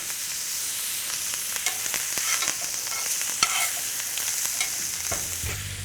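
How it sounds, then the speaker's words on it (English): A steak sears in a pan with butter, thyme and a crushed garlic clove, giving a steady close hiss and crackle of browning fat. A few soft clinks of the pan or spoon come through, with no talking. "we're actually going to add a little bit of butter, thyme, and a clove of crushed garlic to the pan"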